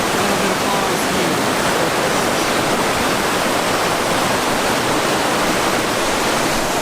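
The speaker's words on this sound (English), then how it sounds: "There's a little bit of falls here." Small waterfall at Watson Falls, a branch of the creek near the trailhead, pouring in a steady, loud, broadband rush that stays even and close throughout with no pauses.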